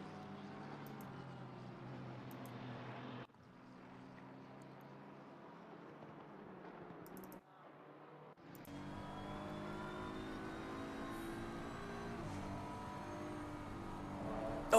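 A Porsche GT3 race car in a Donington Park endurance racing game, its engine note droning and shifting steadily, with sudden cuts and jumps in pitch as the view changes during the overtake.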